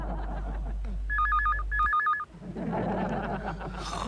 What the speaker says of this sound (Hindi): फोन जरूर कोकी का होगा।